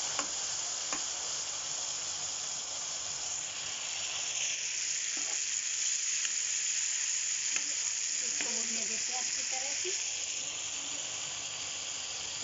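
Chopped tomatoes hit onions frying in hot oil for a beetroot sabzi, giving a steady, close hissing sizzle with occasional soft pops and a faint clink midway, heard without talk.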